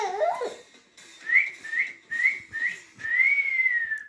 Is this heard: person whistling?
yes